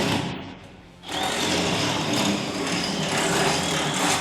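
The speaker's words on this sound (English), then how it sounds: "you'll need to use a drill with a 12 mm bit" A power drill with a 12 mm bit whines steadily, starting up after a second of quieter noise, then runs continuously at high speed while enlarging holes in a Chevrolet Silverado ZR2 truck frame.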